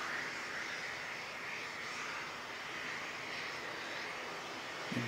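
A Jetstar airliner in from Melbourne passes in strong wind, a faint, distant, steady engine roar and hiss that holds evenly throughout, ending with a brief close knock.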